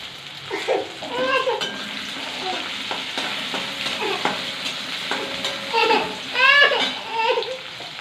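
Sliced onions and mixed vegetables sizzle and fry in a pan over lowered gas heat for idli sambar, with a steady crackle, intermittent stirring scrapes and some soft background voices.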